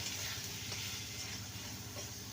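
Jujube pickle with Kashmiri chili powder being stirred in a pan, a quiet, steady sizzle with faint occasional scrapes of the spoon.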